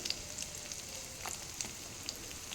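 Small onions sauté gently in sesame oil for a village-style mutton kuzhambu, giving a steady fine sizzle with light crackles and pops throughout, close and even.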